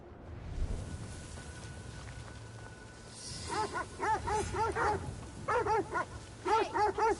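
A dog whimpering in Assassin's Creed Shadows, a series of short, high, rhythmic whines and yips repeating in quick pulses after a quieter rumbling start, fairly close and clear.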